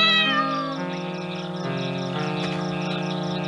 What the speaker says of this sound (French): Mais il fallait bien que je sauve le petit chat.